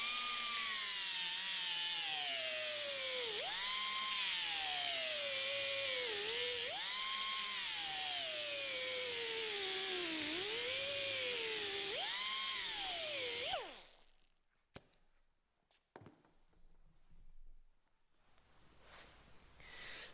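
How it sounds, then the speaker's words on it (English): High-pitched power grinder cutting down the peened end of a bolt on a Hawker Typhoon wing spar, a loud continuous whine that rises and dips under load for about thirteen seconds, then stops, leaving faint clinks. "I've now ground down the end of the bolt, so that's toast."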